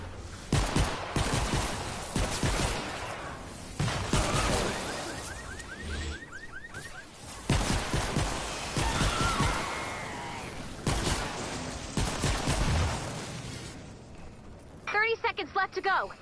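Gunfire in a PS4 shooting video game comes in repeated bursts of rapid shots, separated by short lulls, with a person talking over the action.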